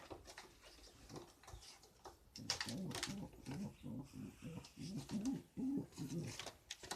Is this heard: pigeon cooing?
yes